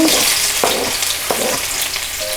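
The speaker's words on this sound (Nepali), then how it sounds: "मेथी फ्राई भइसकेपछि यसमा म लसुन राख्छु" Garlic and fenugreek seeds frying in hot oil for a Nepali gundruk curry, a steady loud sizzle with a few brief stirring scrapes, no voices.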